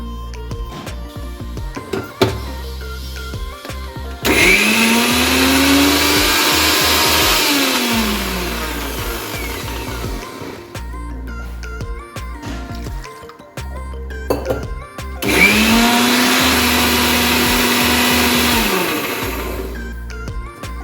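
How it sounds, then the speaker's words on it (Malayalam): A mixer grinder whirs loudly in two bursts, each several seconds long, grinding grated coconut into a smooth paste. Quieter clicks and clatter fill the gaps between runs. "ഈ കഷ്ണം വേകുമ്പോഴേക്കും നമുക്ക് തേങ്ങ നല്ല പേസ്റ്റ് പോലെ അരച്ചു കൊണ്ടുവരാം."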